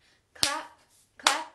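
Two sharp hand claps during a children's action song, spaced under a second apart, close and crisp against near silence.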